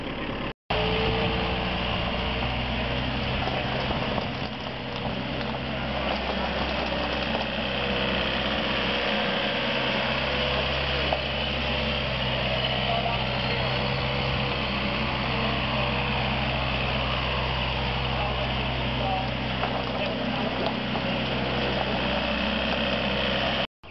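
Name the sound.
Wacker Neuson 280 wheel loader engine running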